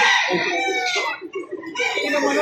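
Chickens cluck and a rooster crows at a poultry market in Lipa City, Batangas, with overlapping calls filling the whole stretch, loud and close.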